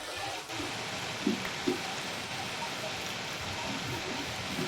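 Steady rain falling in Minecraft, a soft continuous hiss with a couple of faint low thumps, like something slowly stepping on grass, rising over a quiet moment.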